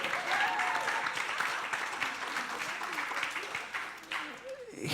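Audience applause at a university athletics talk, a sustained wash of clapping from a room of people that fades toward the end.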